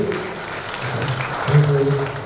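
Audience claps for three panelists at the end of a blockchain panel discussion in Bali, a soft diffuse patter of applause with a voice briefly speaking over it near the end.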